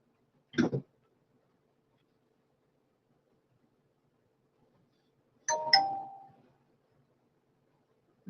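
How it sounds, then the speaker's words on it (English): A notification chime sounds twice, brief and clear, separated by near silence, the second ring trailing off with a short decay. "that's just the bell, y'all"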